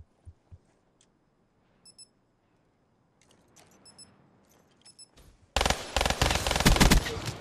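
Shotgun fire in the competitive Black Ops 3 video game, a loud sudden burst of heavy blasts after a quiet stretch of faint clicks and beeps, no talk over it.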